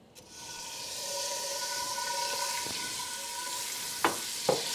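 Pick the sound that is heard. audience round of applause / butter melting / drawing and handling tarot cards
butter melting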